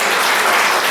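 A church congregation claps together, a loud, dense burst of applause that fills the whole short moment, close and with no voices.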